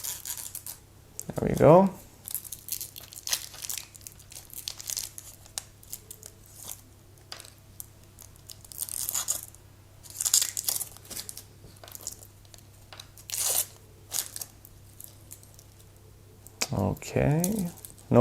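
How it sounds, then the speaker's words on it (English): Protective plastic film peeled and crinkled off a new Seiko Alpinist SPB117J1 watch, with close crackling and rustling in short bursts and a brief clatter, while someone talks over it. "Now let's remove some of the plastics here."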